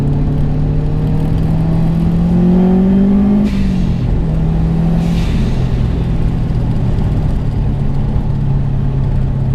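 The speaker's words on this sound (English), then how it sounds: "I hope everybody can hear the blow-off valve." A modified 500 bhp Subaru Forester drones loudly from inside the cabin as the engine note falls off, followed by two short hissing whooshes from the blow-off valve.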